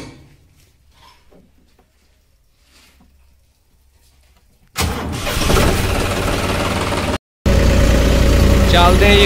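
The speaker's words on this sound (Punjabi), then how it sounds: "ਲਓ ਜੀ ਕਰਦੇ ਹਾਂ ਟਰੈਕਟਰ ਸਟਾਰਟ" A tractor fires up in the early morning at a garage, with a quiet lead-in giving way to a loud, sudden roar that drops out for a moment and then resumes as a steady, rough idle.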